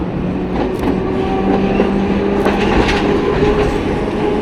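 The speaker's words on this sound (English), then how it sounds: "There's a tram coming through now" A tram rumbles past at close range on a street in Okayama, Japan, a steady loud roar of wheels on rails with faint metallic squeals and clatter throughout.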